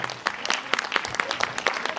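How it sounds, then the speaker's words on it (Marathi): A small group claps in a brief burst of applause, with the sharp hand claps coming rapidly and unevenly. "जोरात टाळ्या झाल्या पाहिजे"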